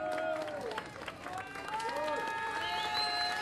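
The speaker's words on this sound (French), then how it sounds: "Salve d'applaudissements." Round of applause with clapping and crowd noise during a French radio show, steady and fairly loud for the whole stretch, with melodic tones running underneath.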